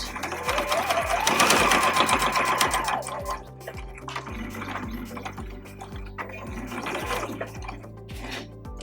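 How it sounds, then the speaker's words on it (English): Sewing machine stitching a straight line across fabric strips for a heart garland, a rapid even mechanical whir close up, loudest at the start then steadier, with faint talk over it. "sew a straight line starting at this corner of one of the strips of fabric and ending at this other corner"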